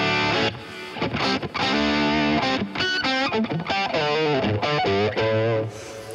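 An electric guitar runs through a boost pedal into a Kemper amp profile of a Hiwatt Custom 100W or Marshall JH Super 100, playing loud, distorted chords and riffs with sustained ringing notes and short breaks.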